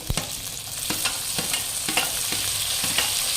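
Tomatoes hit potatoes frying in a pan, giving a steady close sizzle broken by a series of sharp scraping stirs every half second or so, with no voices.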